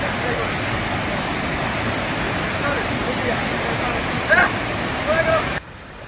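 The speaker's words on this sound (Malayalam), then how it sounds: "നമ്മൾ പറഞ്ഞ ആ വെള്ളച്ചാട്ടം എത്തിയിരിക്കുകയാണ്" Steady broadband rush of water pouring over the rocks of a waterfall in Anjarakandy, Kannur, heard close and continuous throughout, with a few brief higher splashes or voices near the end before it drops abruptly.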